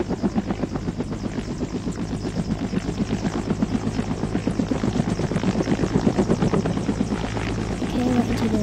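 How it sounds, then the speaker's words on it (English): A Coast Guard helicopter in a video game gives a steady rhythmic rotor thump and engine drone that swells slightly over time. The sound is loud, continuous and unbroken, with no voices. "I guess I'll drive Coast Guard helicopter."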